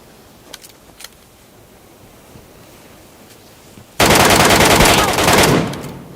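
Gunfire in the video game PUBG Metro Royale, a loud close burst of rapid automatic fire lasting under two seconds after a quiet stretch with faint distant pops.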